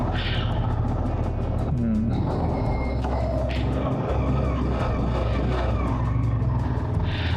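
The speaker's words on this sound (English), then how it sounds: "Just warming up the engine a little." A car engine warming up, idling loudly and steadily with a continuous low rumble and a few revs rising over it, close by, with no talk over it.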